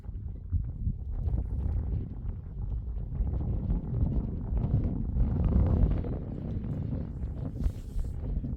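Strong wind blows steadily across open ranch land where a fence is being built, a loud, continuous low rumble buffeting the microphone with gusty swells throughout and no voices.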